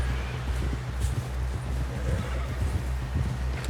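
A horse in the video game Red Dead Redemption 2 galloping, rhythmic heavy hoofbeats pounding steadily and close, with a low rumble underneath and no voices.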